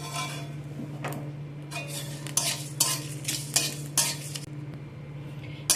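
Whole cumin and other spices dry-roast in a pan, stirred in steady scraping strokes with light metallic taps over a faint sizzle, fairly quiet and close, with no voices.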